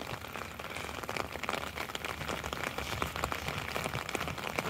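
Steady rain falls by the sea at Loch Melfort in Scotland, a dense close patter of drops on surfaces that runs evenly for several seconds with no voices.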